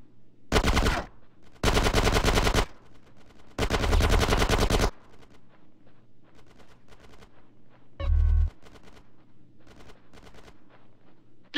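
Video game gunfire in Grand Theft Auto: San Andreas, three long bursts of rapid automatic fire followed by a single sharper blast. A faint steady rhythmic thumping runs underneath.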